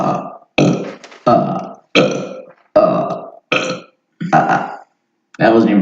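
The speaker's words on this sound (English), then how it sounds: "That wasn't even a real burp." A series of about eight loud, close burps in quick succession, each a short guttural eruption separated by brief silences, during a podcast recording.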